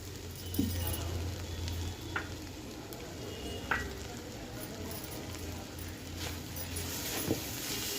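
Ivy gourd frying in a pan with coconut, a soft steady sizzle with occasional stirring clinks and scrapes, quiet and close.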